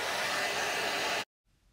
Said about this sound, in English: So of course I do have a blow dryer out here. We're gonna set it on hot and hot.